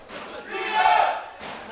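Football fans of both teams cheering at a KON Academy versus Jaguar match, a broad crowd roar swelling to a peak midway and easing off, with a brief dip and renewed cheering at the end.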